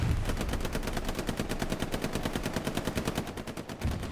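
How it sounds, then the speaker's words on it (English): Rapid bursts of gunfire crackle steadily throughout a Hell Let Loose match, sounding like a machine gun firing in repeated volleys at moderate distance, with no talk over it. "Shots in the distance."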